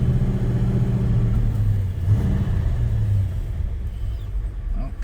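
A 1969 1/2 Dodge Super Bee with the A12 engine driving, heard from inside as a deep, steady rumble with a brief rise in revs, then settling to a lower drone.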